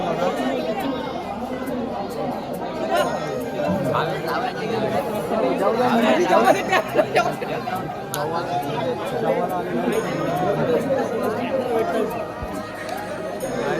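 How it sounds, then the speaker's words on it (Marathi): Dense crowd chatter at the Datta Jayanti festival in Dadargaon, with many voices overlapping in a steady, close hubbub and occasional louder calls rising from the babble. "बघा गर्दी बघा"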